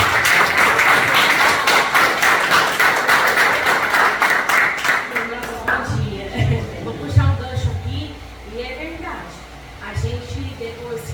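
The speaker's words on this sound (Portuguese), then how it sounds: "Aplauda o Senhor." Church congregation clapping in praise, a dense rhythmic burst of many hands filling the first half, then fading out as a voice begins speaking over the room.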